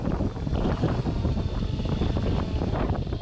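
Wind buffeting a drone flying over coastal cliffs on a windy day, a steady, close, rumbling roar of gusts against the microphone, with no talk.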